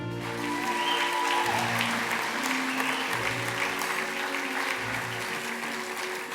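A gala audience at the Upper Midwest Emmy Awards breaks into sustained, loud applause for the host, a dense wash of clapping that stays steady throughout, with cheering in the crowd.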